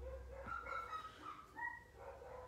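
Dogs barking and whining indoors at home, a few short yips and whimpers close by with a steady low background hum.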